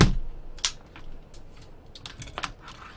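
Typing on an Acer computer keyboard, a run of light, irregular key clicks with a few sharper taps, close and alone with no talk.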